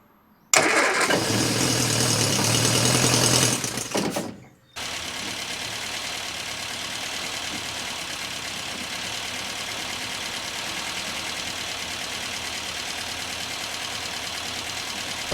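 An MG Midget that runs badly cranks loudly on its starter for about four seconds, catches, and then settles into a steady, rough-running idle that lasts the rest of the clip.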